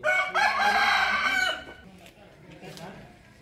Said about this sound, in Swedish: Oj, satan vad stor tupp. Kolla tuppen.